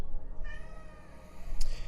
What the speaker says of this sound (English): the cat, in the background temporarily